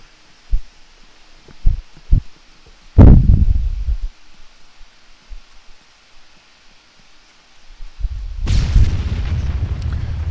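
An abandoned vehicle exploding in the game Arma 3: a few soft thumps, then a loud close blast at about three seconds that fades, and later a second big rumbling explosion that roars on to the end.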